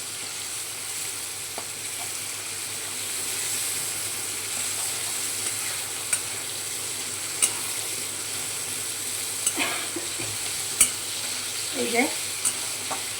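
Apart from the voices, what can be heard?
frying onion and tomato in a pan for paneer chatpati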